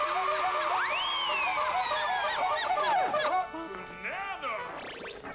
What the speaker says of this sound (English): our duck makes a sound